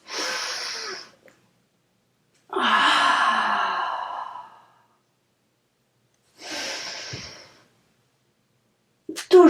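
A person doing an abdominal exercise breathes out hard three times, each breath a long, close, airy whoosh with silence between, and a short sharp breath cuts in at the very end.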